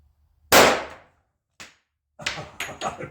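Kimber Crimson Carry II pistol firing cast bullets: one loud sharp shot with a decaying tail, a faint brief click, then three quicker shots close together, all near and without talk.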